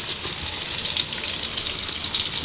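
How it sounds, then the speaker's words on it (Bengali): Eggplant pieces frying in hot mustard oil give a steady, bright sizzle that fills the whole clip at an even, fairly loud level, with no voices over it. "তো তেলটা গরম হয়ে আসছে বন্ধুরা, আমি এখন বেগুনটা দিয়ে দিচ্ছি"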